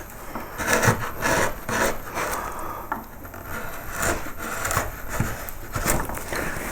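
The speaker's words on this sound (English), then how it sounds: "back to the bent gouge to clear that up" A bent gouge scrapes and rasps across wood while clearing a pierced relief carving of a yellow flag iris, a close series of short rubbing strokes in a steady rhythm.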